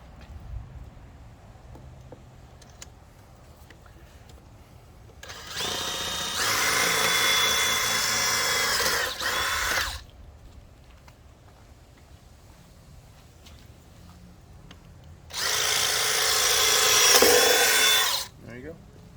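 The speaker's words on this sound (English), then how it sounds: "just drill a hole right there, and then same on the other side" Two bursts of a power drill whirring steadily, the first about four seconds long and the second about three, with quiet shuffling between them.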